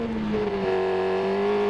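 A Yamaha YZF R6 sport motorcycle engine drones loudly and close, its tone rising as it revs up and then holding a steady high whine for a moment.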